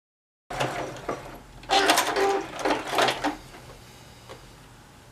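A sewing machine stitches along the end of a fabric rotary cutter cozy with a short stitch length, its motor running in close, loud bursts of rapid mechanical clatter that start and stop several times.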